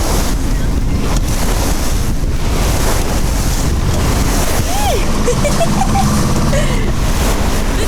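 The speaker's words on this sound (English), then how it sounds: "the waves look piddly on the camera, but they're not, they're quite big in real life" Aboard a sailing boat on a rough crossing near a busy shipping lane, strong wind buffets the microphone over the constant roar and slap of big waves, loud and unbroken from start to finish.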